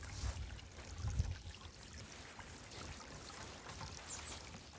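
Spring water coming down a mountain trickles and babbles softly at close range, a faint continuous wash with some low rumbling bursts, no voices.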